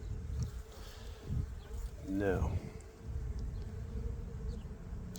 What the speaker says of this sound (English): there sure is a lot of bees